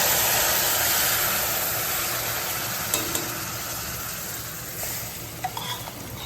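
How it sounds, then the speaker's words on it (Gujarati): A ladle stirs a thick semolina pudding mixture with milk in a hot pan over low heat, with a constant sizzling hiss and a few soft scrapes and taps near the end. "ધીમે ધીમે બે થી ત્રણ વાર ચમચો ફેરવી દઈશું"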